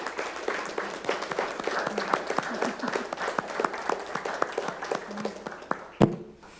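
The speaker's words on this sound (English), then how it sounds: "I just wanted us to give Mr. Williams a round of applause for his service to our town" A small audience at a city council meeting in Keene, Texas, claps together in dense, continuous applause for several seconds, ending with a sharp final clap before fading out.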